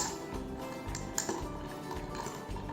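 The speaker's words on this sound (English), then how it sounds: "We are going to prepare this drink with the method known as stir. So, let's start stirring them well." A spoon stirs a grenadine-syrup drink in a glass, giving light irregular clinks and scraping knocks over about three seconds, close and fairly quiet, with no talking.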